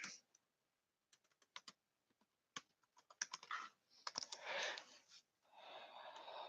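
Fingers tap on a computer keyboard in a quiet room, a few sparse isolated keystrokes giving way to faster clustered typing, close and soft, with some breathing noise toward the end.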